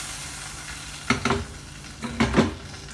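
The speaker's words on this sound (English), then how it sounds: "I will switch off the flame now and add this tadka to the curry." Hot tadka poured into a pot of Gujarati white kadhi curry gives two short bursts of sizzling and stirring, about a second apart, over a steady low kitchen hiss.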